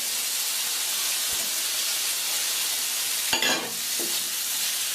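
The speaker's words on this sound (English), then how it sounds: "give these a chance to colour, a chance to fry in that beautiful olive oil" Prawns frying in olive oil in a paella pan, a steady bright hiss of sizzling throughout with a sudden louder burst and clatter as they are stirred partway through; no talking.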